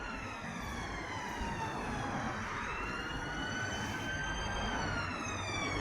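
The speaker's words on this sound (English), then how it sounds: "There's the ambulance." An ambulance siren wails on a road through roadworks, a loud, steady, rising-and-falling tone sweeping past with a slight pitch shift, heard over constant traffic noise.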